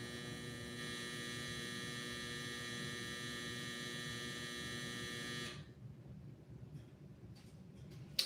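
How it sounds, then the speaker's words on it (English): A household clothes dryer runs with a steady, even hum that holds at moderate level for about five and a half seconds, then cuts off abruptly, leaving a quiet room with faint scattered noises. "I was literally waiting for the dryer to stop"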